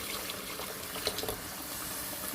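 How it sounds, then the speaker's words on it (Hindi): Hot water is poured into a pot of thin masoor dal with spinach, a quiet, steady stream of splashing and bubbling liquid lasting a couple of seconds, with no talk over it. "2 गिलास भर के हमने इसमें पानी डाल दिए"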